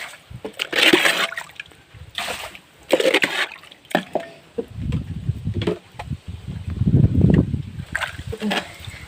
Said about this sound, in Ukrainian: Повністю все було залито водою, трішки вичерпала. Отак вичерпую.